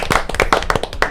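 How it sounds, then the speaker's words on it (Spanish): Audience clapping to welcome a guest onto a Spanish-language interview program, a short burst of distinct close hand claps in a quick, slightly uneven rhythm. "Con un fuerte aplauso recibimos al"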